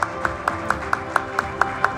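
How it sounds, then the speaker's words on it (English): Regular claps ring out in a steady, evenly spaced pulse of about four per second, fairly faint against a quiet room at a TV9 Network conference after a speech by India's foreign minister on the Global South. "let's give him a huge round of applause"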